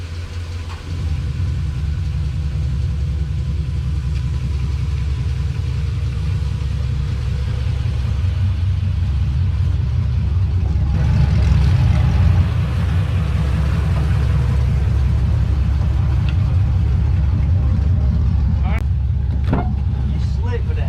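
An old car's engine idles steadily up close with a deep, constant low rumble, and it swells slightly partway through. A few brief knocks come near the end, and no talk is clearly heard.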